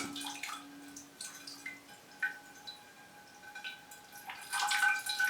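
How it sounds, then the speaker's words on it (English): Water is poured into an orchid pot of growing media and roots, producing faint close trickles, drips and gurgles that come in uneven bursts and grow to a fuller splashing pour at the end. "I have to keep pouring water in this because the media it's in combined with the roots it's got, is reluctant to wet"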